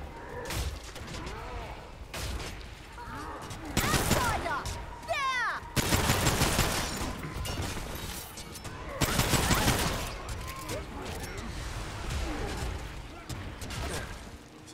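Remnant 2 gunfire aimed at bombs, with rapid, sustained bursts of automatic shots repeating in loud waves and swells of explosive noise between them, all close and heavy, with some talking mixed in underneath.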